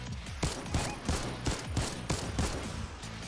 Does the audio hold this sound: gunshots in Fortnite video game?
yes